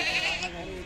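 A single short goat bleat rings out at a busy livestock market in Deonar, fairly soft and close.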